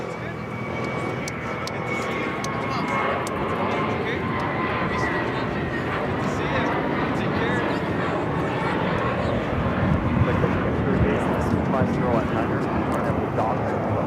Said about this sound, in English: This is JetBlue 2021 taking off to Fort Lauderdale on the A321.